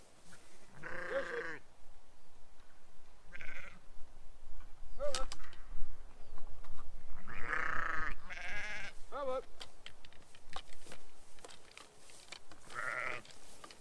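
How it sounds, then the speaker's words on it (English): Sheep bleat nearby in several separate calls, some overlapping, with quiet outdoor background between them. "The sheep mowers do their thing."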